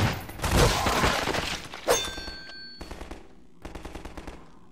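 Rapid automatic gunfire in Garry's Mod with a Half-Life 2 setting: a loud, dense opening barrage and a sharp blast, then a pause, then two later runs of evenly spaced shots that are quicker and lighter.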